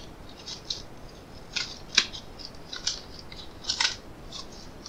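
A knife slices through large packing tape with a series of sharp, crisp snips and rasps, about eight short bursts at irregular intervals over a quiet background.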